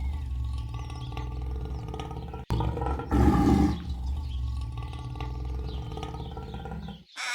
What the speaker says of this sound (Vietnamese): Sư tử.